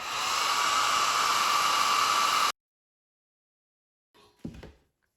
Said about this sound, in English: I'm going to dry this all just with my hair dryer.